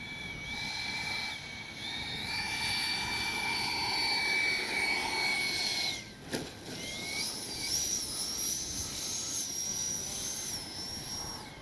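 Freewing 80mm MiG-21 RC jet with electric ducted fan comes in to land on grass, a loud steady high-pitched whine rising and falling as it passes, with a brief dip midway and no talk.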